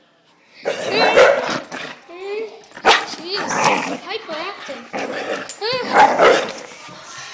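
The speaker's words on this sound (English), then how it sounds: "No, the puppy's coming towards us." A young, hyperactive puppy barks and yips in short excited bursts close by, mixed with whimpers, while a person talks over and between the barks.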